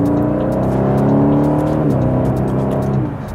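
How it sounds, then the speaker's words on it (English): A 2018 Aston Martin DB11 V8's deep, throaty exhaust burbles steadily and loudly, with a rumbling pitch that dips and shifts near the end. "that's where you hear the exhaust burble change more aggressively"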